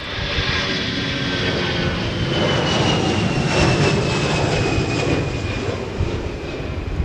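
A Delta jet takes off from runway 22 at Minneapolis–St. Paul, its engine roar steady and loud throughout with a broad rushing noise and a faint descending whine, no talk present.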